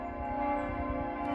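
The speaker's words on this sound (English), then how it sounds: "Special service bell" Church bell sounding for a special service in Germany, a steady sustained metallic tone held throughout, fairly faint and distant over low outdoor rumble.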